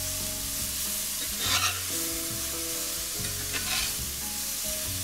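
Mushrooms and sweet potato sizzle in a pan over medium-high heat, a constant loud frying hiss with two brief scraping stirs, no voices.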